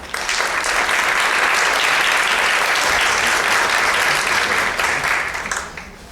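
Steady, loud audience applause greets a speaker being introduced at a health and wellness forum, sustained for about five seconds before tapering off.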